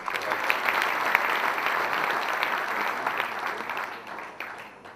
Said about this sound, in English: Another round of applause too.